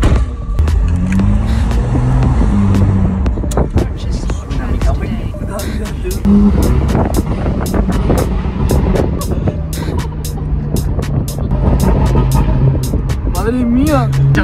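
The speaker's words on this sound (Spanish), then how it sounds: "Vamos a cerrar la válvula del coche para que se piense que suena, que es el máximo que suena." A car engine revs loudly with its exhaust valve closed, with repeated throttle blips and sharp bursts over a rumbling idle while people talk over it.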